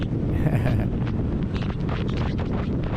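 Wind buffets the microphone while riding a Suzuki Hayabusa motorcycle home, a loud, continuous roaring rush with uneven gusts throughout.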